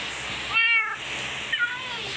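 A cat meows in a video game, in two short calls: a clear, fairly loud first meow and a briefer, softer second one, over a low steady game background.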